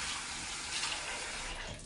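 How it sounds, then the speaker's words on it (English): Tap water runs steadily and close by while hands are washed at a sink, a continuous hissing gush with no pauses and no talk. "Notice also I'm using my elbow to turn off the water."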